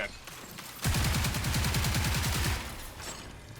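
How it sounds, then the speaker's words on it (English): Rapid automatic gunfire in the video game Marathon: one sustained, loud burst of evenly spaced shots lasting under two seconds, then a quieter tail. "they're trying to shoot me"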